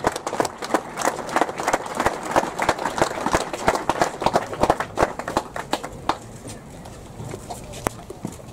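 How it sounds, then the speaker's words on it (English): A crowd claps after a statue unveiling outdoors, a dense burst of applause that gradually thins to scattered individual claps near the end. "Please give a big round of applause to Barbara,"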